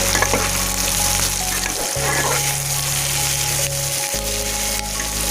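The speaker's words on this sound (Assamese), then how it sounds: "নহৰু 9 পিচ ইয়াতে ভাজি লৈছোঁ" Chopped onion, ginger and nine garlic cloves frying in a pan for dhaba-style chicken curry: a loud, dense, continuous sizzle up close, with low background hum shifting partway through.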